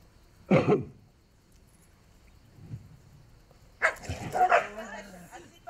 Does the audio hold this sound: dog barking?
yes